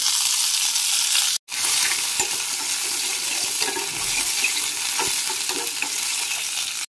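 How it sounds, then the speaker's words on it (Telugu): A spice tempering of dried red chilli, ginger and curry leaves fries in hot oil with a loud, steady sizzle that runs almost continuously, broken by two brief silent cuts. "పోపు వేగిపోయింది, పొయ్యి కట్టేశానండి"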